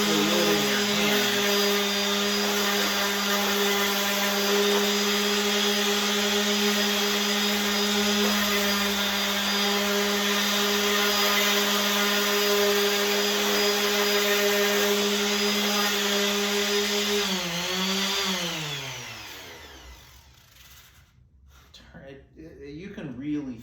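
Makita or Milwaukee power sander running steadily on wood, a loud constant motor whine with a sanding rasp, then winding down near the end and stopping.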